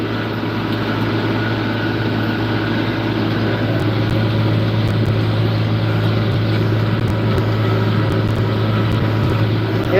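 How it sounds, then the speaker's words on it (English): A tractor engine runs steadily, a loud continuous drone with a low hum and no pauses or changes in pitch. "Yeah, this is an amazing tractor."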